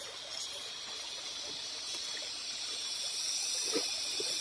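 Bukawi Falls, a waterfall, pours as a faint, steady rushing hiss heard from a distance, with no voices over it.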